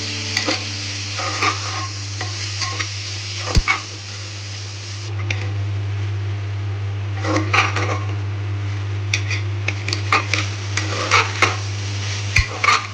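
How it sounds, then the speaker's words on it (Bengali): Chana dal stirred and fried in a pan for a soybean dal: a low sizzle under repeated scraping strokes and clacks of a spoon against the pan, with a steady low hum running beneath. "ছোলার ডালটা দিলাম, দেওয়ার পর ভালো করে আবার মিশিয়ে ভাজবো।"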